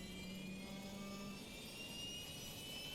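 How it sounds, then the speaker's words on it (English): An F-14 Tomcat in Microsoft Flight Simulator gives a steady, dense jet engine roar with a high whine over it, continuous and fairly quiet, no talk. "Why does the aircraft sound like it's starting up?"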